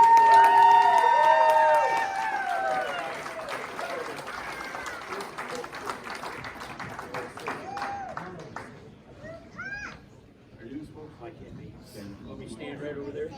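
An audience gives a round of applause for the band at a hall of fame induction ceremony, loud at first and tapering off, with voices and some musical tones mixed in.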